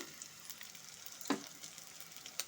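Potatoes and fresh peas frying with rice and grated ginger in a pan, a steady soft sizzle with a brief louder crackle burst near the middle, close and alone without talk.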